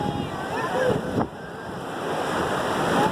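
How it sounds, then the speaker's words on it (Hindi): Sea waves surge and wash onto the beach at Hawks Bay, Karachi, a steady loud roar of surf mixed with wind buffeting the microphone, with a brief dip midway. "इस वक्त पानी बहुत चढ़ा हुआ है और बहुत स्पीड से आ रहा है।"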